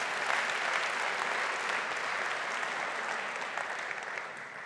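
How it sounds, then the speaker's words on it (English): An audience at a pitch-competition event gives a sustained round of applause, dense and even clapping that tapers slightly near the end. "Give them a big round of applause"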